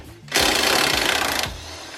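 A pneumatic impact gun breaks loose a suspension nut on a Miata during a spring install, a single loud, close burst of rapid hammering rattle lasting about a second before cutting off.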